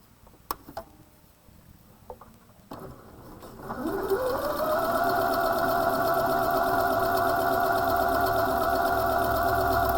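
A sewing machine runs steadily on a triple straight stretch stitch, starting after a few faint clicks and settling into a loud, even mechanical hum that continues to the end with no talking.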